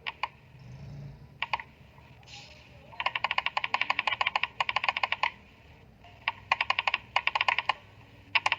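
Bursts of quick keyboard typing on a computer while entering text in Microsoft Word, close and crisp, with short pauses between flurries of keystrokes and no talking.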